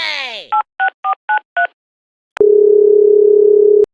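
A telephone is dialled: a falling electronic chirp, then five crisp, evenly spaced keypad tones, a pause, and a long steady buzzing tone that cuts off abruptly.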